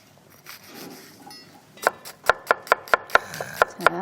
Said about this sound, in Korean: 양파를 조금 굵게 다져서 준비하겠습니다. 자, 이렇게 썰어 주시고요.